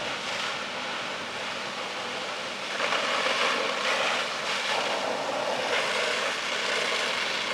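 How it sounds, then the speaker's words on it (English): Fire department pumper engine pumping water onto a house fire, a constant loud broadband mechanical roar with a steady low hum that swells slightly partway through, continuous with no talk. "the sound you hear in the background is the sound of a fire department pumping tons and tons of water onto the fire."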